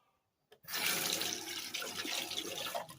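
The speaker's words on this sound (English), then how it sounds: "I'll take the second 4 cups of water, pour them into the honey bottle." Boiled distilled water pours steadily and loudly into a honey bottle for a few seconds after a brief quiet start, a continuous gurgling rush with no talking.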